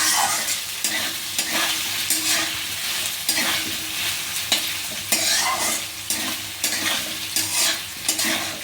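Sabudana khichdi with potatoes fries in a pan over a medium flame, a continuous sizzle broken by repeated scraping stirs of a spatula spreading the mixture, close and fairly loud.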